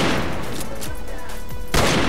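Rapid gunfire from the Western multiplayer shooter Fistful of Frags, a dense burst of shots at the start and another loud blast near the end, with crackling echoes in between.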